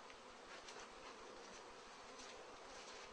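Honeybees pour out of their hives in a dense, steady buzzing swarm that fills the air evenly and continuously, close and unbroken.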